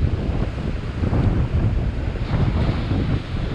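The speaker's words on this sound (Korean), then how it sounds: "큰 파도가 오면은 떠서 오우 나가는구나" Sea waves wash onto a rocky fishing shore, a loud continuous surge and hiss with gusty wind buffeting the microphone throughout.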